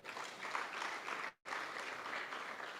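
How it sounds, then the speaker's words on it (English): An audience at an applied research forum applauds the panelists, with faint, steady clapping that breaks off for a moment before resuming. "I think they deserve another round of applause."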